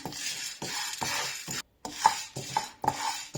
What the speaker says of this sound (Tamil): கடலைப்பருப்பை வறுத்துக்கலாம்.